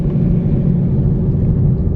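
A Boss 302 Mustang running an E85 tune with bolt-ons rolls out of a parking lot, its engine a steady, loud low rumble from inside the cabin without revving.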